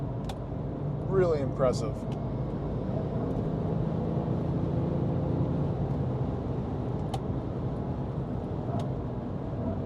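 2007 Porsche 911 Turbo (997.1) engine while driving, a steady low road-and-engine drone throughout, with someone speaking briefly over it early on.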